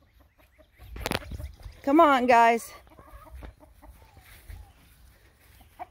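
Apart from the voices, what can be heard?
chickens clucking in a chicken coop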